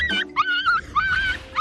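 Feral puppies never handled by humans cry and whimper in high, wavering yelps, several quick plaintive cries in a row, close and loud.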